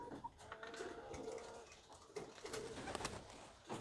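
High flyer pigeons stir and coo on a roof, a nearby mix of soft calls and agitated bird vocalizations over steady background noise, with no talking.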